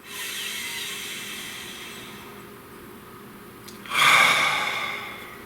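A person takes a slow deep breath, a soft airy inhale building to a louder, rushing exhale near the end, close and alone in a quiet room.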